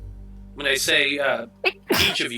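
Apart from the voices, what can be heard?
sneeze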